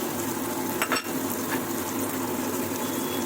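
Soya chunks fry in a pan with a steady close sizzle as they are stirred, with a brief scrape and clink of the spoon against the pan near the start, and no talking.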